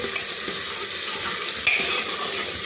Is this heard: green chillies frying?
yes